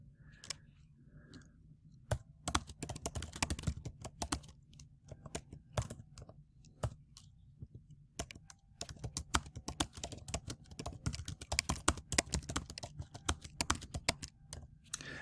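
Rapid, uneven bursts of computer keyboard typing, close and fairly quiet, with brief pauses between runs of clicking keys and no talking.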